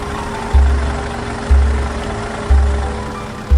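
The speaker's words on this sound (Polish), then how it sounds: "odgłosy traktorów coraz ostrzej brzmią w jesiennym powietrzu" Tractor engines chug steadily in a rural village with a deep, regular thump about once a second over a constant low rumble.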